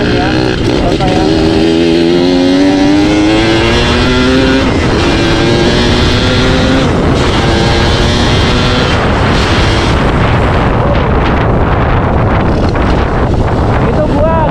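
A motorcycle with a big carburetor revs hard at full throttle, its engine note rising and falling through gear changes, loud and close with heavy wind rush over the microphone.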